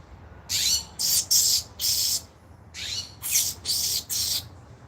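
A territorial bird in a home setting squawks loudly and harshly in a series of about eight rough bursts with a brief pause midway, close and alone with no talking.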